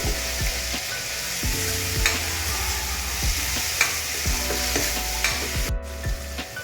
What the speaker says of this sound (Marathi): कांदा आणि टोमॅटो छान परतून घ्यावा सोनेरी कलर येईपर्यंत